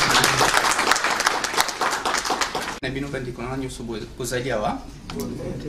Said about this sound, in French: Nous pouvons l'acclamer.